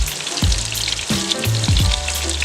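Chicken for chicken parmesan fries in a pan with a loud, close crackling sizzle, punctuated by a few sharp pops and spatters, no voices.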